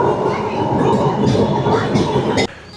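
A Kolkata tram runs between Gariahat and Esplanade, its wheels rumbling steadily on the rails with a few bright metallic clangs, loud and close, ending in an abrupt cut. People talk faintly underneath.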